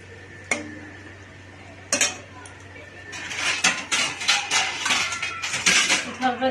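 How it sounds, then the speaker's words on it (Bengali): A metal lid is set down on a cooking pan of pabda fish curry: two sharp clanks, then a busier stretch of clattering pot and lid contact close by. "ঢাকনাটাকে চাপা দিয়ে রাখছি"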